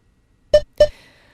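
Two short electronic beeps from a workout timer, about a quarter second apart, clear and close, followed by faint background hum.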